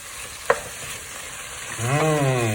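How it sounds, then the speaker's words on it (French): Meat browning with onions in a pan for khoresh gheimeh: a soft continuous sizzle with one sharp utensil knock, then a sustained voiced tone rising over it toward the end. "Alors voilà, j'ai mis la viande avec les oignons. Je fais revenir."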